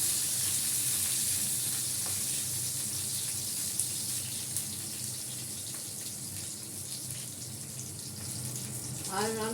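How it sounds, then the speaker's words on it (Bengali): Eggplant frying in a pan sizzles steadily in hot oil, a continuous bright hiss with occasional stirring clinks, fairly close, growing busier toward the end. "বেগুনটা একটু ভেজে নিই।"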